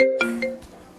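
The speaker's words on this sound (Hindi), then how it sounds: "अरे मम्मी, रानू दी का फोन आ रहा है।" A mobile phone ringtone chimes with a short melodic burst of tones for an incoming call in a family home, fading quickly, with voices nearby.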